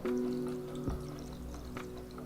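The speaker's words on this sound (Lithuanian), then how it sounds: "Pilam vandenį. Irgi nedaug, kad apsemtų." Soft pouring of water over marinating anchovies, a low gurgling trickle running steadily for a couple of seconds, close by and fairly quiet.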